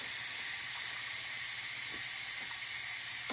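Steam hisses steadily and loudly from the release valve of an electric pressure cooker making red lentil and spinach soup, a continuous broadband rush with faint clicks underneath and no talking.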